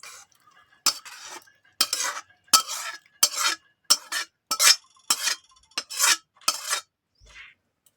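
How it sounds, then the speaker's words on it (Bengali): Chutney poured and stirred in a pan, about a dozen rhythmic scraping strokes of a spoon against metal, evenly spaced and close, with no talking. "এবার আমি চাটনিটা ঢেলে নিচ্ছি।"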